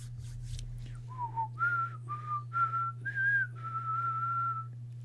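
Someone attempts to whistle in the video game Phoenix Wright: Ace Attorney, producing a series of about six short, thin whistled notes at slightly varying pitches over a steady low hum, after a few brief clicks.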